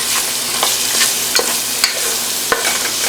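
Food sauteing in hot oil in a pan, a close, steady sizzle broken by several sharp clicks and scrapes of stirring.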